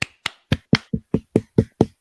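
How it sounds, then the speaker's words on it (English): A few slow, sparse hand claps for a hockey series win, about nine sharp claps spaced evenly over two seconds, close and alone with no voices. "Lame round of applause"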